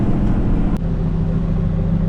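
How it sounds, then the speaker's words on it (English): A truck engine labours uphill in a loud, steady low rumble heard from inside the cab, with no talk over it. "it's good for content because you get to listen to the engine work"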